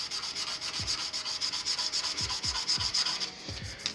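Sandpaper rubbing rapidly against a spinning wooden vegetable peeler handle on a lathe, a close, rhythmic scratchy back-and-forth sanding with soft low thumps, no voices.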